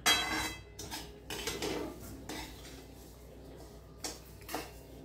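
A spoon scrapes and clinks against a cooking pan as sugar is stirred into roasting semolina for sweet sheera, with a few sharp knocks and steady scraping nearby and no talking.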